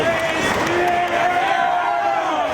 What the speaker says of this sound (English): Steele starting to feed off this crowd here in Chicago